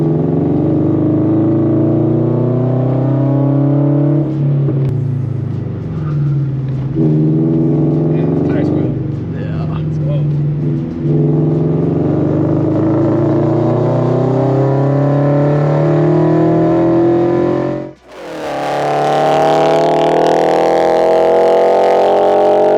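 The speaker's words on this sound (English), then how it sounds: "Shifting third to fourth, I hit the gas." A bagged Scion FR-S/Subaru BRZ/Toyota 86 on a track day pulls hard, its engine note climbing steadily under cabin talk before a brief dip at a shift and then a louder surge.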